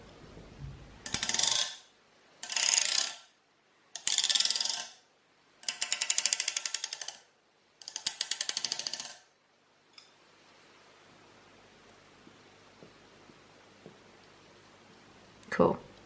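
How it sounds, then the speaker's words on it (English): Metal radiator scratched and scraped, heard as five loud bursts of harsh rasping noise, separated by short pauses, followed by a quiet stretch with faint ticks and a final knock. "I've just finished making noise on the radiator and scratching all the paint off"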